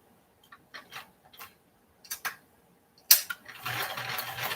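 A sewing machine stitches layered fabric pieces onto a heart-shaped pillow or pincushion, with short bursts of rapid mechanical ticking separated by pauses, then a longer steady run, close and moderately loud.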